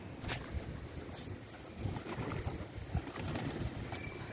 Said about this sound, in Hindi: कबूतरों को खाना डाल दिया है, ये लोग खाएंगे